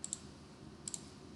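Faint, sharp computer keyboard clicks come in two quick pairs, one at the start and one near the end, over a quiet room hum.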